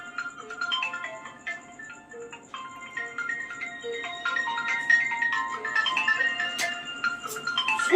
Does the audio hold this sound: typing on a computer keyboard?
no